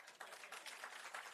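Audience clapping at a KFC grand opening ceremony in Black River, St Elizabeth: a steady, fairly quiet patter of hands from a small crowd, lasting only a moment.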